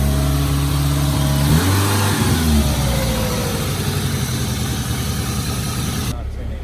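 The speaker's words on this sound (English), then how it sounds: "do I need to give it gas or can I just crank it? Okay, high idle." A Toyota Corolla's engine runs at a steady high idle just after starting, loud and close, with the pitch dropping slightly early on. People talk nearby.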